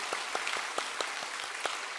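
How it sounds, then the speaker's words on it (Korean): A church congregation at a Sunday worship service claps in welcome for newly introduced members, steady dense applause with sharper individual claps standing out, moderately distant in a reverberant sanctuary and without talk. "우리 뜨겁게 환영의 박수 하겠습니다"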